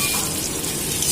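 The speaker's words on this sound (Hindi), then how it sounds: "पियाज को भलसे फ्राए करदे ब्राउन।" Chopped onion with green chilli frying in oil in a kadai gives a continuous, even sizzling hiss, close and fairly loud throughout.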